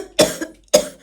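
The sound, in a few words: cough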